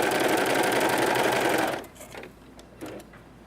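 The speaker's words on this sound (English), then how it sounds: "take the fabric out from underneath the foot towards the back of the overlocker and make a chain" A Pfaff Coverlock 3.0 overlocker stitches at high speed for nearly two seconds, chaining off thread, then stops; faint handling clicks and rustles follow at close range.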